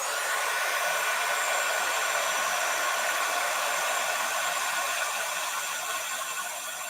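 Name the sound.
heat gun blowing to heat craft embossing powder from below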